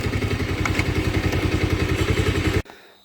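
A motorcycle idling close by with a steady, rapid thumping pulse, then switched off abruptly as it is parked at an ashram, leaving near silence.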